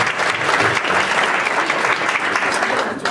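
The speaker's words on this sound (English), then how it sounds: "Let's give them a clap." Steady applause from a conference audience, dense clapping that holds for about three seconds before easing slightly at the end.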